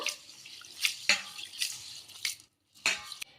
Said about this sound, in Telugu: రేషన్ బియ్యంని రెండు మూడు సార్లు అయితే కడుక్కుందామండి